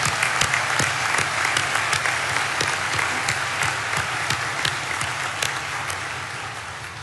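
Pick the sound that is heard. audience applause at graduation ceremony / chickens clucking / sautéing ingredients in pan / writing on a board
audience applause at graduation ceremony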